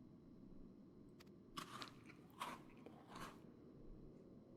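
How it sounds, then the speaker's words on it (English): A character crunches on a meat bar in Final Fantasy XIV, three crisp biting crunches spaced about a second apart over a low, steady background rumble. "That's me crunching on the bar."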